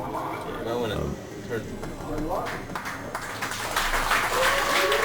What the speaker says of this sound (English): Yeah, deserved applause.